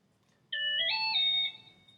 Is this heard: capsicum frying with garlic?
no